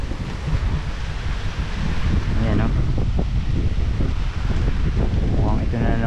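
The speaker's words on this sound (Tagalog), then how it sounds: "sobrang lakas ng hangin" Strong wind roars across a farm field of sponge gourd vines, buffeting the microphone in a heavy, steady rush that swells partway through, while someone speaks briefly.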